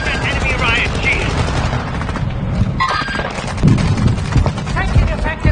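Incoming gunfire in a video game firefight: rapid bursts of automatic fire and impacts crackle nearby, loud and continuous, while people talk over the shooting.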